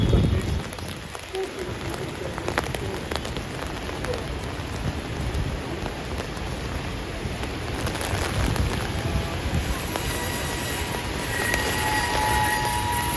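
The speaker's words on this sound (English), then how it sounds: "Robert, it looks like you guys sent us some rain, huh?" Steady rain falls on a Manhattan street in New York City, a dense continuous hiss with a low rumble of city traffic beneath and a faint voice at times.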